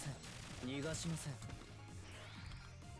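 Twin machine guns firing and reloading in PSO2, brief game gunfire and mechanical clicks under electronic effects, with a voice speaking over them.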